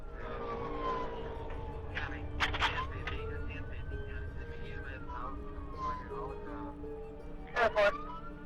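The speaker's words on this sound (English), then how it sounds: "the sirens were blaring loudly" A police siren wails in a slow rising and falling sweep during a pursuit recorded by a dashcam, heard under a narrating voice, with a few sharp bursts of noise.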